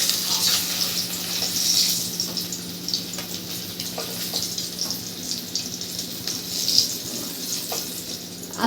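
Eggs fry in a little oil in a pan for dhaba-style anda masala, giving a steady close sizzle and crackle with a few small pops and no voices.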